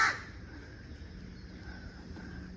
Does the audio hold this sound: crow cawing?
yes